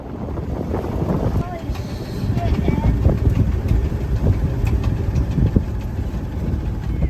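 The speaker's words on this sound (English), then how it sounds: "We take down the sails, but the wind continues to intensify." Strong gusting wind buffets a sailboat heading into a bay on the Albanian coast, a loud rough roar over a low engine drone, with a voice talking over it.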